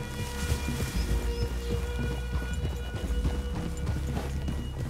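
Horse hooves clip-clop at a steady walking rhythm in the open-world Western game Red Dead Redemption 2, a moderate, close patter of several horses over soft ambient outdoor sound.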